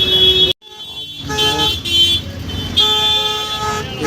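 Dense road traffic outside Secunderabad railway station in the morning, with loud, near car horns tooting repeatedly over a steady engine rumble, broken by one abrupt brief cut.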